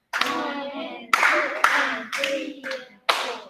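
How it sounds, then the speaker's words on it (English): A few sharp hand claps in an uneven rhythm, close and crisp, each one followed by a short ringing decay. "let me clap something different"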